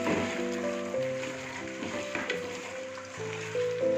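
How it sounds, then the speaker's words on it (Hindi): Chicken frying in a pan with onion, garlic and ginger, a steady close sizzle running throughout with no talk. "4 से 5 मिनट इसको फ्राई करेंगे।"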